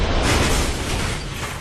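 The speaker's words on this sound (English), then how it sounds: "This primary explosion blew apart the enclosure and vented into the packing container." A sugar dust explosion inside a sugar refinery packing area booms as a dense, loud rumbling blast, sustained and slowly fading, heard alone without talk.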